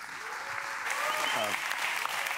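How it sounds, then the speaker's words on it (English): An audience applauds a speaker being welcomed to the stage at a talk, clapping that starts moderate and swells louder after the first second, with a brief voice heard under it. "Will you please give a lovely warm round of applause for Mike Hill?"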